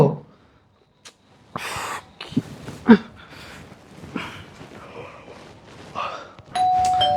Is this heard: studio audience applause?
no